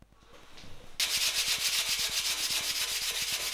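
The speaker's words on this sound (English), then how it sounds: "The next technique I like to show you is dry sanding." Dry sanding strips paint off a carbon fiber part, starting abruptly after a quiet second into fast, steady back-and-forth scratchy rasping strokes, loud and continuous.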